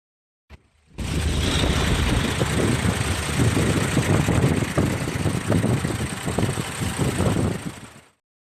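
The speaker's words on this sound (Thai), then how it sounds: "เดี๋ยวไปฟังเสียงเครื่องกันนะครับ" After a short click, the heavy diesel engine of a 2019 Hino Victor 260 hp ten-wheel box truck idles steadily for several seconds with a rough, knocking rumble, then cuts off.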